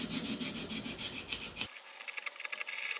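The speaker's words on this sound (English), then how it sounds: "So as I'm sharpening, I'm going to be removing metal." Pruning shear blade being sharpened with a file, a steady series of rasping strokes up close, the rubbing continuing more lightly after a sudden drop in low-end noise.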